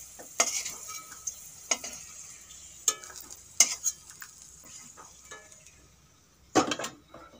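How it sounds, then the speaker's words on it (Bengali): Garlic cloves are fried in a pan for a green chilli bhorta while a utensil stirs and scrapes in sharp, irregular strokes over a soft sizzle, close up with no talking. "রসুনগুলো ভাজা হয়ে গেছে"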